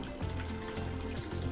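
Water pours into a container holding tilapias during a fish weighing, a steady close splashing stream with uneven gurgles.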